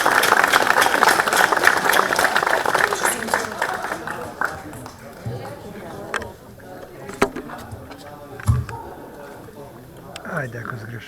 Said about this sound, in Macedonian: Да ја поздравиме се еден аплауз.